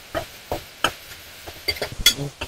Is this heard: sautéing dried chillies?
yes